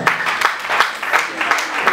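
Brief burst of audience applause at a gathering of journalists, steady clapping from a small crowd heard up close for under two seconds.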